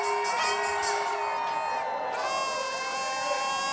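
A crowd cheers and whoops on the New York Stock Exchange floor at the closing bell, loud sustained shouting layered with a ringing tonal bell that stops partway through.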